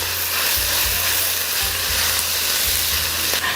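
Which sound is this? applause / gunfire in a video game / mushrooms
mushrooms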